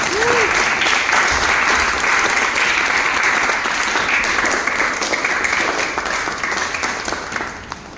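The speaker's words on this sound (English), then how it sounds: "So can we please have a round of applause for Tiara?" Loud, sustained applause at a school open house showcase for a young girl about to give her first public speech, dense clapping from a packed audience that stays even and then fades slightly at the close.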